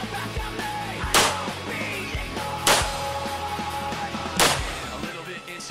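Three sharp, loud gunshots ring out at evenly spaced intervals during night combat shooting practice, each a distinct crack over a steady background hum.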